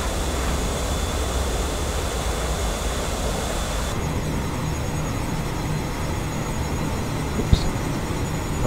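Steady broadband roar of a Boeing 737 airliner in a flight simulator as it slows for landing with flaps and gear out, a continuous engine and airflow rush that drops slightly in brightness midway, with a brief click near the end.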